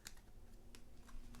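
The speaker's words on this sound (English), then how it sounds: "I just feel the need to shuffle a little bit more" Tarot cards being shuffled by hand during a reading: a quiet, steady riffling texture with a few sharper flicks and snaps, close up, no voices.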